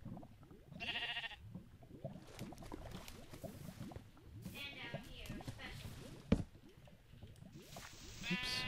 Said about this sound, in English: Sheep, what are you doing here?